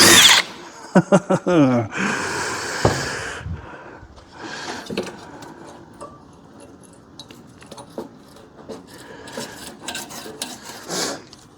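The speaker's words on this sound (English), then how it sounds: "I've drilled through that accidentally" A drill bores through the door skin panel of a Ford Capri in a workshop: loud whining bursts at the start, then scraping and clattering metal handling as things go quiet.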